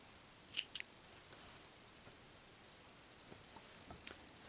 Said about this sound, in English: And then we're going to cut off our yarn.